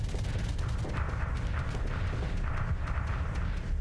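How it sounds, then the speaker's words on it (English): Ship weapons fire in a Starsector space battle, a dense, continuous barrage of booming low-end shots and crackling impacts, steady and loud throughout with no pauses. "continue to shoot him until he dies"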